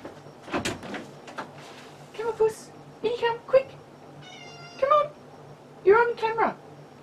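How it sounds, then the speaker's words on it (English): A cat meows repeatedly in short, insistent calls with pauses between, fairly close, alongside a few soft knocks or rustles in a quiet room. "she's meowing like right outside my door"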